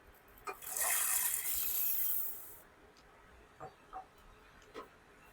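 A cup of chana dal pours into a pot of warm water for Maharashtrian puran poli, making a loud, steady rushing splash that lasts about two seconds before fading to quiet kitchen noise with a few faint knocks.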